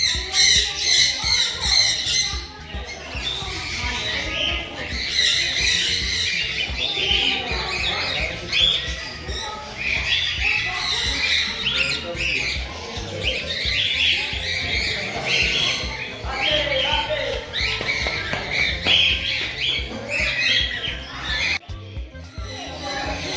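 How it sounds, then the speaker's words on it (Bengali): A flock of swans honks and squawks in a fish and bird enclosure at Kathgola garden in Murshidabad, a dense, steady chorus of close, loud calls running throughout with faint voices mixed in. "এক পাল রাজহাঁস দেখো।"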